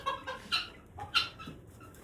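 Hens offered for sale beside partridges cluck in several short, separate bursts spread across two seconds, close by and moderately loud, with no talking.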